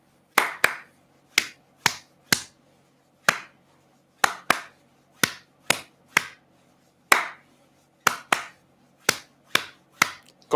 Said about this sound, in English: just clap along